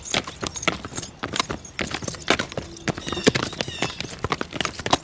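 Horses walk along, hooves clip-clopping in a steady, uneven patter close by, with faint jangling of tack mixed in.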